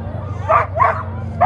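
Sled dogs bark and yip in short bursts at a sled dog race start, close by, over a low steady hum, with a voice briefly audible.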